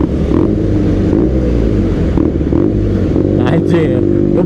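A BMW R nineT motorcycle with an aftermarket exhaust is revved up close: a loud, continuous deep engine rumble that swells and falls with the throttle, with a voice briefly heard over it.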